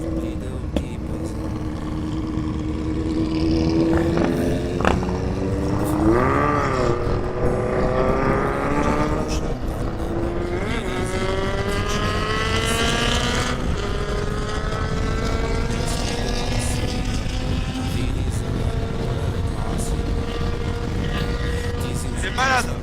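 A Kawasaki Z650 motorcycle ridden fast on a road in Algeria, its engine whining and rising in pitch through repeated passes and shifts over steady wind rush, with voices talking over it.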